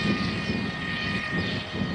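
AXN Floater radio-controlled model plane flying slowly into the wind, a steady buzzing electric motor drone at moderate distance, fairly even in level throughout.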